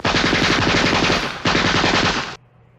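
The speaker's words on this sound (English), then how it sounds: "He nailed one of the gangsters who had a submachine gun in his hand." Submachine gun firing in two long rapid bursts, loud and close, each a dense stream of shots with a brief gap between them, ending in a short fading echo.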